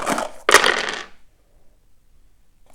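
Five dice rattle and clatter across a table during a 1942 tabletop war game, two quick bursts of rolling followed by quiet.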